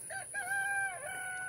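A rooster in a flock of white chickens outdoors gives one drawn-out crow at moderate distance over a faint background hiss.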